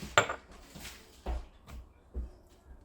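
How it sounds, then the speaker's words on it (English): Meat flipped in a pan while cooking Cajun food: a sharp metallic clatter followed by a few softer knocks and scrapes of utensil on pan, close by and sparse. "I'm going to flip my meat a little angrily."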